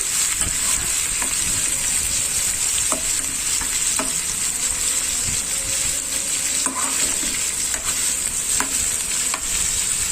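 Onions, garlic and dried red chillies fry in oil in a pan for an amaranth greens dish. A steady close sizzle carries on under the odd clink and stir, with no talking.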